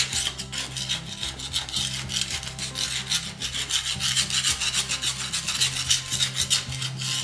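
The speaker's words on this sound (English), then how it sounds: "Just lift up a piece of the pad with your hand and start scraping with the putty knife underneath to loosen up the adhesive." Putty knife scraping old carpet pad adhesive off a concrete floor, a close, steady rasping rub in quick back-and-forth strokes throughout, with no voices.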